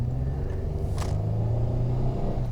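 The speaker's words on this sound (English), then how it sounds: "this car really growls actually, but I think it makes over 200 horsepower in the V6" Steady low engine rumble from a 2004 Chevrolet Malibu V6 accelerating on a highway, heard from inside the car, with a brief faint hiss partway through.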